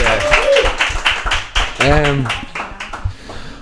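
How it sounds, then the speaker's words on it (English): Audience giving a round of applause at a live podcast recording in Dublin, a burst of close, dense hand clapping with a voice briefly speaking over it. "We give him a round of applause."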